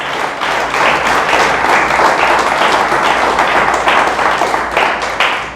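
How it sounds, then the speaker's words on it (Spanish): A church congregation claps loudly and continuously, a dense sustained wash of applause that swells and holds for several seconds with no talking over it. "Dale fuerte el aplauso a Dios"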